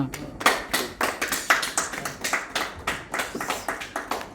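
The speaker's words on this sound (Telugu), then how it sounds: "చక్కని చప్పట్లు వెచ్చని దుప్పట్లా కొట్టండి." A crowd at a movie poster launch claps in a steady, rhythmic beat, with close, evenly spaced claps repeating throughout.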